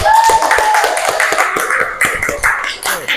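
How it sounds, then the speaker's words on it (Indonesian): A class of students applauds together in a classroom, loud close clapping with uneven rhythmic hand claps and a few stronger beats, fading near the end. "Tepuk tangan untuk kita semua."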